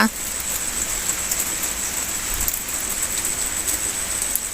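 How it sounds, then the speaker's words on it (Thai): Steady, soft patter of light rain falling continuously, with a constant hiss and faint high whine in the background. "เป็นบรรยากาศฝนลิ้นเป็นหนาวหนาว"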